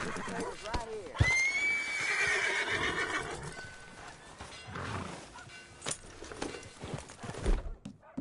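A horse in Red Dead Redemption 2 gives a loud, drawn-out whinny, followed by hoof clip-clops and scattered voices talking in the background.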